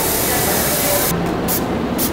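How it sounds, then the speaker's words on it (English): Hairspray hisses loudly and continuously from an aerosol can onto hair in a salon, a dense steady spray that breaks into a few short bursts toward the end. "We're gonna do a little hairspray."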